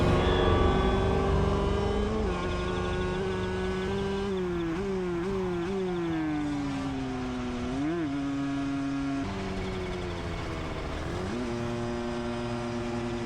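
Car engine revved at full throttle, a loud sustained drone whose pitch climbs, wavers and jumps as it shifts, running on its own without speech.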